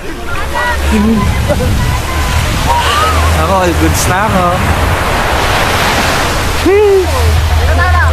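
Loud surging water and surf roar continuously while people shout and talk over the noise, close and chaotic.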